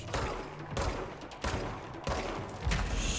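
A shield barrage attack in the video game Control, a rapid fusillade of bursting impacts in four or five loud, dense waves with short gaps between them, close and forceful.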